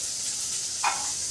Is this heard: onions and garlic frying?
yes